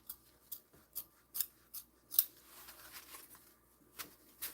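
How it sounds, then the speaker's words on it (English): Closed sewing scissors slide along fabric in a string of soft, quick rasping swishes with short pauses between them. The sound is quiet and close, and no one speaks. "I like to keep my scissors when I'm doing this as closed as possible so I don't pick up anything else as I'm sliding it"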